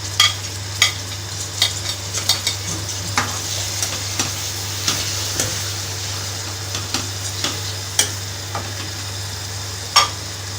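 Onions and tomatoes fry in a pan with a steady sizzling hiss over a low constant hum, punctuated by frequent clicks and scrapes of a stirring spoon, close and fairly loud without speech.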